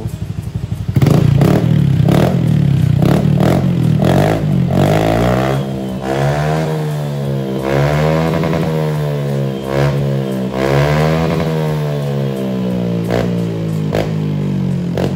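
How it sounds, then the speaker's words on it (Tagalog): A Honda Click 125i scooter fitted with a Villain GP2 exhaust muffler revs close by, sharp throttle blips first and then sustained rising and falling engine notes that hold loud and steady throughout. "Una nga namin tinesting ni kuya yung muffler na bilin"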